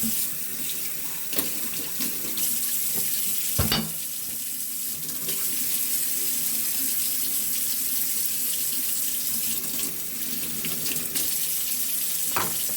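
A small pan is scrubbed under a running tap, with steady water rush over the sink and brief scraping bursts, close and continuous without any talk.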